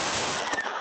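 Gunfire erupting outside a downtown Los Angeles warehouse party on New Year's Eve, a dense, loud rattle of shots filling the brief moment.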